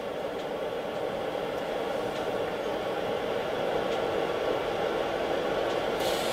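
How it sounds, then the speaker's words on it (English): Cooling fan of a charger feeding a 48V golf cart battery, a steady broadband whir that runs evenly and continuously at close range with no speech over it. "if I turn on the battery, the fan is louder now"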